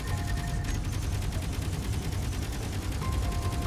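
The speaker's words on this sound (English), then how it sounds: "We have three Gatling guns here. Whoa, hold on. I'm gonna start firing." Three Gatling guns on a robot vehicle fire at an enemy base in the game Space Engineers, a rapid, unbroken mechanical rattle of shots that stays loud and constant throughout.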